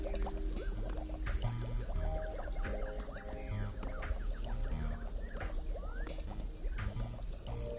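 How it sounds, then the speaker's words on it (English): Water running from a faucet in a video game, a faint, continuous trickling splash layered over a soft musical background, steady throughout with no voices. "Water. A faucet."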